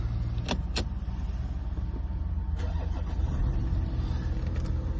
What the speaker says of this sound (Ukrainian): Запуск автомобіля з оберта.